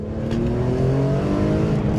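A BMW E46 M3 engine revs steadily and loudly throughout, a continuous, close, sustained tone with no speech over it.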